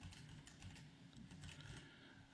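Quiet, rapid typing on a computer keyboard, a steady run of soft key clicks entering a web address, with no voices over it.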